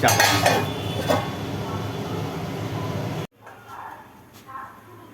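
Food stirred in a cooking pot while making a dish of hilsa fish head with Malabar spinach, a steady scraping and clinking wash with a broad hiss, loud at first, then dropping to a softer stir with a voice speaking.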